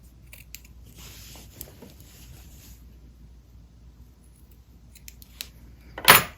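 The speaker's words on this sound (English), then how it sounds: "And I will just come along to every corner and just give it a little trim" Scissors snip the fabric corners of a Christmas tree skirt, with faint handling rustle and a few quiet cuts before one loud, close crunching snip at the end.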